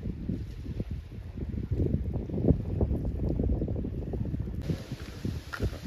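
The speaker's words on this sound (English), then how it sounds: "Still a little windy." Wind buffets a microphone on the rocky Bar Harbor coast in Acadia National Park the morning after Hurricane Lee, a continuous rumbling, gusting roar that stays fairly loud throughout with no voices.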